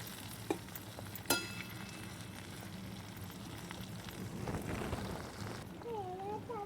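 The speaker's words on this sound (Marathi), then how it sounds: "चांगलं उकळून द्यायचं त्याला" Ayurvedic herbal oil bubbles and sizzles quietly in a pan, a soft, steady crackle with a couple of sharp clinks and a brief faint voice near the end.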